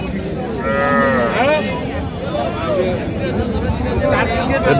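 At the Aftabganj cattle market, a cow among dairy cows and calves lets out a loud, drawn-out moo close by, then further lowing follows while buyers and sellers talk in the background.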